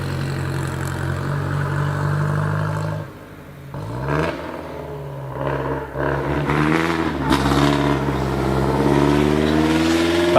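A vintage 3 litre Bentley, a very noisy car, roars at the Prescott hill climb, its loud engine dropping briefly, then revving and climbing again through gear changes as it pulls away, with no talking.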